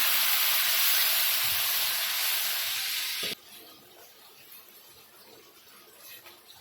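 Water poured onto roasted spice paste in a hot pan for shev bhaji curry gives a loud, steady steaming hiss for about three seconds, then cuts off sharply to a faint simmer.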